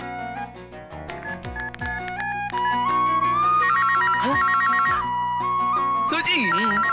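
Phone ringtone playing on an outgoing call, a loud melodic electronic tune with repeating tonal phrases, fairly close and continuous across the clip with no talk over it.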